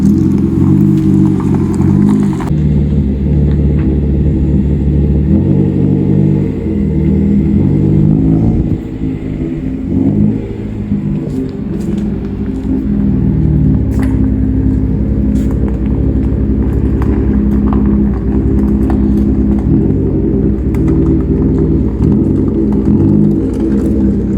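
A car engine idles and rumbles steadily up close, with the revs shifting slightly as the vehicle slowly reverses into a shop bay.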